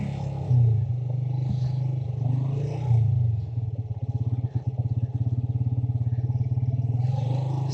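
Motorcycle crawling slowly over snow at Babusar Top, its engine a close, steady low rumble with a rapid putter and some scraping clatter from the tyres, running without talk.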